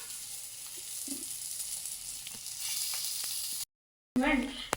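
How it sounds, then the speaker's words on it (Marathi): Soft steady sizzling of potato patties frying on a hot griddle, with faint scrapes, a short gap, then a louder sizzle burst. "हे जे केलेले पॅटीस आहेत ते आपण तव्यावर एक एक करून भाजायला ठेवणार आहोत"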